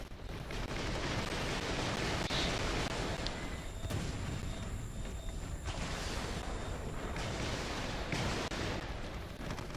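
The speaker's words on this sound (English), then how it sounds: "You can hear the gunfire all around and not see anybody" Battlefield gunfire in Warhammer 40,000: Eternal Crusade, a constant, chaotic wash of distant shots and blasts from all around, fairly quiet and continuous, with no talk over it.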